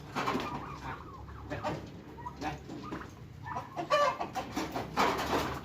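Turkeys cluck and gobble outdoors in short, uneven bursts, fairly faint, with a few birds calling over one another.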